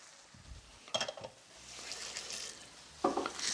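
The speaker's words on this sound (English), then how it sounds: "You just want to sear the outside of this fish about 3 minutes each side" Mahi mahi sears in a hot pan with a low, steady sizzle, broken by a couple of sharp clinks and scrapes of tongs against the metal.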